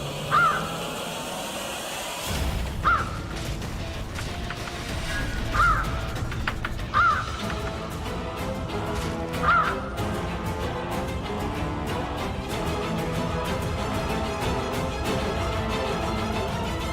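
A crow caws several times from inside a room, spaced harsh calls rising above a dense, loud background of dramatic music and rumbling noise.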